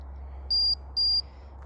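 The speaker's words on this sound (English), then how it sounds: "I'm getting 3 beeps now." Two short, high-pitched electronic beeps in succession from a Marco Polo pet tracker, over a steady low hum, clear and fairly loud.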